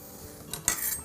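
Knife work on a fresh tuna steak being cut for tartare: a short, quiet scrape and a sharper contact tap against a board or plate, heard close with no voices.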